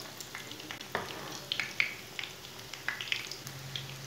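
Leftover roti frying in a pan gives a soft, steady sizzle with scattered crackles and light pops, close and fairly quiet, with no talking.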